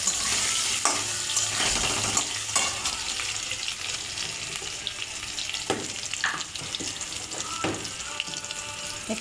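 Potatoes fry in a pan with a little salt and turmeric, a continuous sizzle broken by clattering stirs and scrapes of the utensil, close and moderately loud, with no talk.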